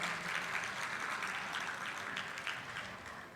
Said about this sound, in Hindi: एक बार जोरदार तालियां बजा के उनका अभिनंदन किया जाए